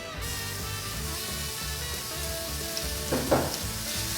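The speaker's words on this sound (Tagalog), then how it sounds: "Magdadagdag ako ng konting oil. Dahil naubos na yung oil sa paggigisa. So, ilagay na natin ating ground beef." Ground beef sizzles and fries steadily in oil in a pan, with ginger in the mix; a continuous close crackling hiss with a brief stir or clatter near the end.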